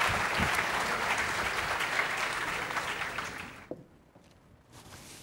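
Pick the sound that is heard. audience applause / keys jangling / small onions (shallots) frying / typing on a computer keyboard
audience applause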